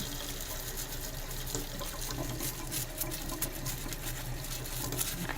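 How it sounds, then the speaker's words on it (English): Tap water runs steadily over a denture brush and a set of dentures at a sink, a continuous close splashing hiss with no talking. "So I'm just going to get both of those under the water."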